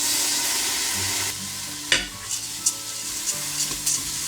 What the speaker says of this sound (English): We will saute it for another couple of minutes.